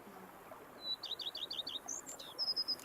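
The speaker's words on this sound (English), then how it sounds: "Bees buzzing, birds chirping." Birds chirp in the video game The Witcher 3: a quick series of bright, rhythmic tweets followed by a few more short calls, fairly faint over a soft ambient background.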